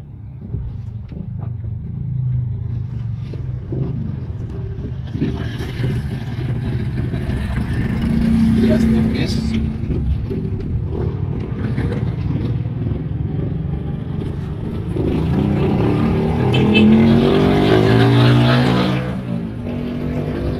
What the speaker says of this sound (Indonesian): Tipis turun gigi, gigi dua dulu ya.